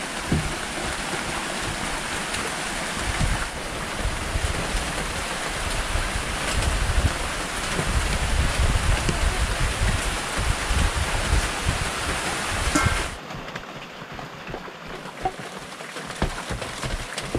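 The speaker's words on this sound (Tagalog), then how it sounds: "Nabutan na tayo ng bagyo mga kabukids." Heavy storm rain pouring outdoors on a rural farm, a dense, steady hiss that fills the scene and then eases to a lighter, thinner wash near the end. No one talks.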